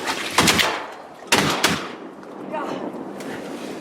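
Gunshots during a youth turkey hunt outdoors, two sharp loud reports close together early on, then a quieter stretch with faint voices murmuring.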